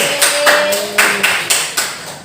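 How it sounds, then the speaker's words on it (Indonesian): Students in a classroom give a short round of applause for a group, several distinct claps spaced out over a steady room hum, moderately close. "Boleh tepuk tangan buat kelompok"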